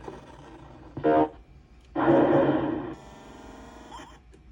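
A few electronic tones and bursts from a Williams Pinbot pinball machine's speaker during a sound test: a short blip, a longer buzzy sound, then a thinner sustained tone, with quiet gaps between.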